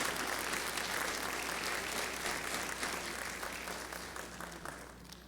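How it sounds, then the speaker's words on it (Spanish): A church congregation breaks into steady, dense applause during a sermon, heard faint and somewhat distant, the clapping thinning and fading toward the end. "¿Le puedes dar un aplauso al Señor por eso?"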